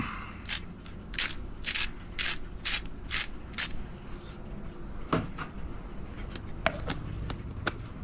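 A pepper grinder cracks fresh pepper in a series of quick, rhythmic ratcheting crunches, close and fairly quiet, with a few scattered clicks and handling sounds afterward.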